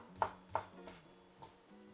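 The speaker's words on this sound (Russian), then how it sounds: "Здесь у меня небольшой пучок зеленого лука, мелко его нарезаю" A knife chops a small bunch of green onion finely on a board: two sharp, close knocks, then softer, more scattered cuts, with quiet pauses between them.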